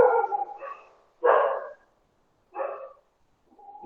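A dog barks in separate short bursts, three or four times with pauses between, fairly close and clear against a quiet background.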